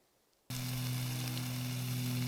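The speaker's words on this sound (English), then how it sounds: "Making breakfast, some bacon." Bacon sizzles and crackles steadily in a pan over a camp stove outdoors, starting abruptly and staying loud and close with a constant frying hiss and low burner hum.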